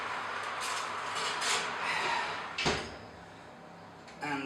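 Kitchen oven door closing after a tray of chocolate brownie goes in, a single firm thud at mid-clip amid light kitchen clatter and handling noises.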